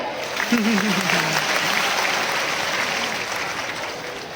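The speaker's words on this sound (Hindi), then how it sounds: "एक बार जोरदार तालियां" A large devotional gathering in Bilaspur breaks into loud, sustained applause that holds steady throughout, dense and continuous, with a voice briefly audible over it near the start.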